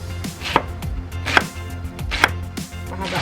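A knife slices cabbage on a cutting board, four crisp chops spaced roughly evenly, close and clear, with soft board knocks between and no talk.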